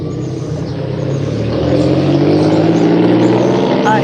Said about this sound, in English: I hate loud ass cars.